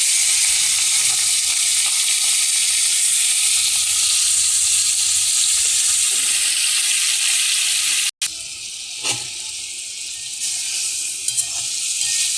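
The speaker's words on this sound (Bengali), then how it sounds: "চিংড়িগুলো একটু ভেজে নিচ্ছি" Prawns frying in oil in a pan, a steady loud sizzle that breaks off for an instant, then resumes with a few stirring knocks.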